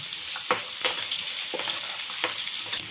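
Ginger and garlic pieces sizzle in hot oil with cumin seeds, a steady close frying hiss broken by a few sharp stirring scrapes and pops, with no voices.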